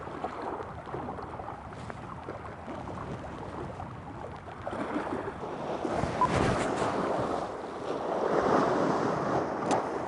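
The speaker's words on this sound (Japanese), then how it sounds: "風が吹いてきたよ。" Wind gusting along a seashore at a night sea bass fishing spot, a steady broad rush that builds louder in the second half, with surf-like roar underneath and no talking.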